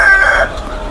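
A curly-feathered chicken, one of a flock kept for breeding, gives a loud, close, drawn-out call with a strained tone that cuts off partway through, followed by quieter barn background.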